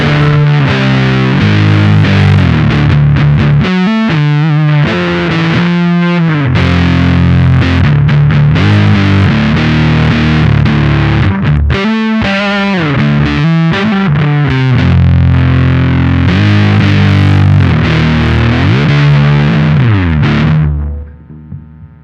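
Deep, heavily fuzzed bass guitar through a fuzz distortion pedal plays thick sustained riffs with a buzzing, saturated tone, loud and continuous before fading at the end.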